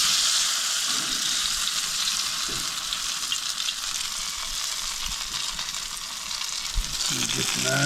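Corn bread deep fries in a pan of oil on an off-grid homestead, giving a steady close sizzle and crackle throughout, with a few faint knocks of handling near the end.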